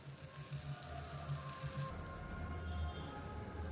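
Dal batter roasting in ghee on a hot pan, a steady close crackling sizzle with fine spattering throughout.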